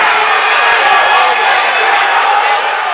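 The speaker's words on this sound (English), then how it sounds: "There's a crowd there from Baruch." Baruch fans cheer in a dense, steady roar at an NCAA tournament first-round men's basketball game, with a commentator talking over the crowd noise throughout.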